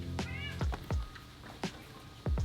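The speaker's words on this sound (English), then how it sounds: "My cat's over there yelling." A pet cat yells to be let out, giving several loud, insistent meows in quick succession, close by and with no talk over them.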